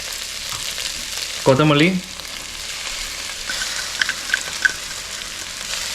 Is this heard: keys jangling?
no